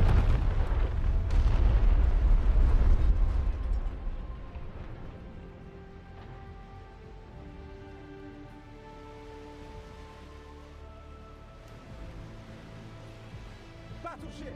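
Naval shellfire in War Thunder Mobile bursts into heavy, rumbling explosions for the first few seconds, then dies away into a quieter background hum.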